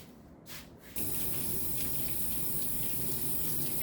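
Water sprays steadily from a tap, rinsing glaze off a ceramic piece. A faint hiss gives way to a sudden, loud, continuous rush that runs without a break until the end.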